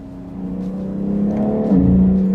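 BMW X3 M engine warming up, a close steady rumble that swells gradually in loudness and pitch, then jumps into a sharper rev near the end, heard alone.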